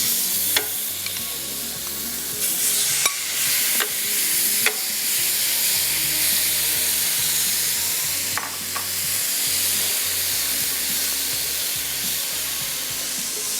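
Chicken sizzles on a hot grill with a loud, continuous frying hiss and scattered pops and crackles, close by and steady throughout.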